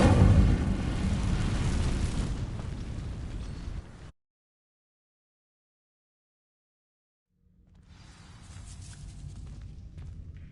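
A fire spell from the Hogwarts Legacy video game bursts into flame against dry vines, a loud roaring blast for about four seconds, then a sudden silence before a lower, rumbling burn returns.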